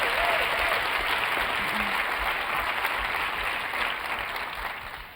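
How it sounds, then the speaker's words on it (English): Audience at an education technology conference keynote applauding the speaker: a dense, continuous wash of clapping from a large crowd, steady and fairly distant, slowly tapering off near the end. "one more round of applause for Lodge"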